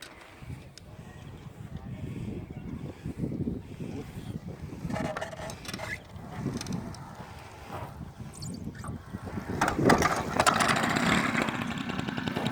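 A Peugeot 103 SP3 moped's small two-stroke engine sputters into life and runs unevenly, revving up and down with a rough buzzing idle while people talk nearby.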